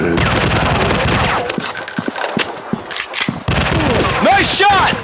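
Rapid gunfire in a zombie shooting video game set in an industrial war zone. Bursts of automatic shots come close and loud, with a brief lull, and game voice announcements and whooshing effects sound over them.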